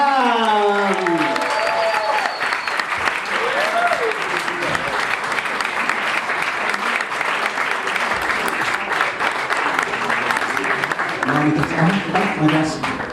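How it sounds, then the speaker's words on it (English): An audience gives loud, sustained applause for a light orchestra, the clapping dense and continuous, with a voice speaking over the start and cheers near the end. "Clap for them!"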